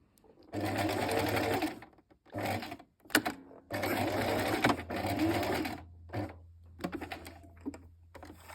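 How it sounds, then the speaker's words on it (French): A sewing machine stitching a blouse 1 cm from the edge, running in several short bursts of rapid, whirring stitching with pauses between them as it sews back and forth to reinforce the seam. "vous allez devoir coudre à 1 cm, faire des points avant-arrière pour renforcer"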